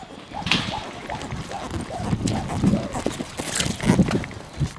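Horses' hooves thudding on arena ground during a team roping event with two riders and a steer, a rapid irregular clopping under crowd noise and muffled voices in the background.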